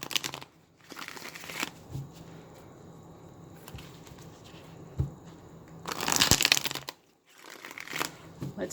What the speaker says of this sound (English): This is the Santa Muerte tarot. I'm going to shuffle a few times.